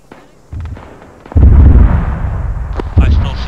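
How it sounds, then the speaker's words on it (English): Rockets slam into bunkers during an Arma 3 battle: three heavy, booming impacts land in succession, each followed by a rumbling roar that fades slowly. "It's some sort of rocket or something."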